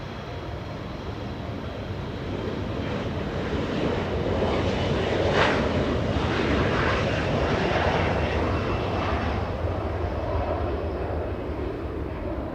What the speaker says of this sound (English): So we have SkyWest 4008 and Embraer E175 waiting to go and right now getting a move on.